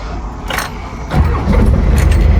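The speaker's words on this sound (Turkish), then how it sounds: "Teknemizi çalıştırdı. çalıştı." A fishing boat's engine cranks and catches before a squid-fishing trip off Çeşme, a loud close start that settles into a running rumble, with a faint jingle of keys.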